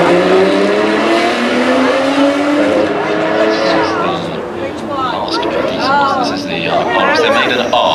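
Road-legal track supercar, an Aston Martin track-derived machine with extra aero, roaring loudly past along the hillclimb at Goodwood Festival of Speed, engine note sweeping up and down, with crowd chatter and nearby voices throughout.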